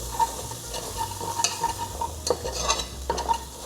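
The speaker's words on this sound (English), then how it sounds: "And then I'm just gonna scrape some of the bottom and stir that." A utensil scrapes and stirs tomato paste and garlic across the bottom of a sizzling pot, producing a run of close scratchy strokes and light metallic taps over a continuous frying hiss.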